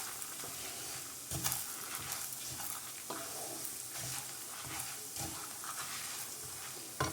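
Whole spices and cinnamon pieces being dry roasted for sambar powder, stirred in a pan with steady scraping and a soft continuous sizzle, punctuated by a few louder clinks from the spoon near the start and end; no talking.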